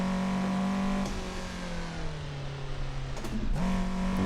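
Toyota AE86 engine on a mountain pass touge run, a steady loud droning hum with a gear change and slight pitch shifts, held under light throttle.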